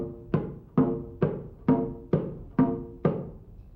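A West African drum struck with a hand-held stick plays seven evenly spaced strokes, alternating open and closed beats, each a sharp resonant hit with a short decaying ring, heard alone and fairly close.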